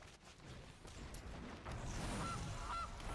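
A goose card in Magic: The Gathering Arena lets out two short, faint honks near the end, heard over a dense, rumbling layer of game sound effects.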